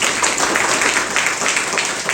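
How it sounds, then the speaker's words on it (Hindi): A group of children applauds loudly and steadily for about two seconds at a Children's Day gathering, a dense, continuous patter of many hands with no talking over it. "चलो इनके लिए जोरदार तालियां बजा दो।"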